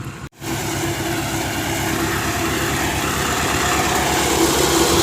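A farm engine, near a tractor in rural Punjab, runs steadily at idle with a low rumbling drone and a regular pulsing beat, loud and close, after a brief cut at the very start.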